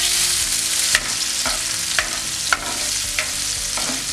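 Grapes fry in hot ghee with fennel seeds in a pan for a sweet-sour grape chutney. A loud, continuous sizzle is broken about every half second by a spoon scraping and stirring, with no voices.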